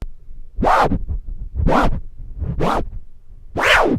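Four quick turntable flare scratch bursts, each a rising-and-falling swish chopped by crisp crossfader clicks, in a steady rhythm with short gaps between.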